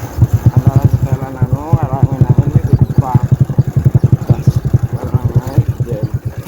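Motorcycle engine running close by on a cassava farm, a loud rhythmic pulsing putter that throbs steadily, with people talking briefly over it.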